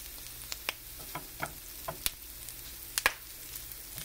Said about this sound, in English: light saute, light simmer in there.